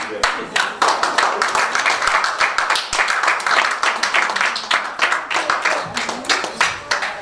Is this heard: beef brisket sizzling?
no